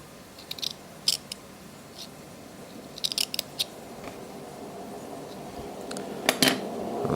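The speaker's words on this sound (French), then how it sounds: "Je vais couper des bandes." Scissors snip Kendo cotton into strips for a vape coil in a mini subtank, a few sharp close clicks in small clusters over faint background hiss, with no talking.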